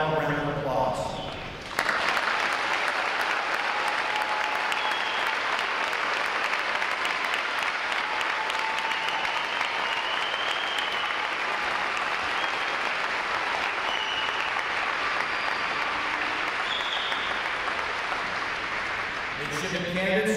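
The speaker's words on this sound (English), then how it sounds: "let's give them a final round of applause." A large crowd of family, friends and staff applauds at an NROTC graduation ceremony for midshipmen candidates, a loud, sustained roar of clapping that swells after a brief lull and carries on with some cheering mixed in.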